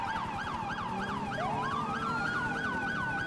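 A police siren in GTA V with the LSPDFR mod wails in a steady, rapid repeating cycle over traffic rumble, with a second rising siren tone joining partway through.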